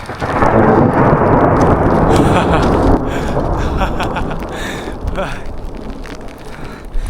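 Loud, continuous thunder rumbles through a mountain hailstorm, with heavy hail and rain pounding throughout and a brief sharp burst near the end.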